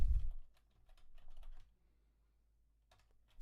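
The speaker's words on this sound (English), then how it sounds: "I'm going to begin by typing the student's username" Quick bursts of close keyboard typing, a short run of clicks, then a pause and a few more keystrokes, in a quiet room.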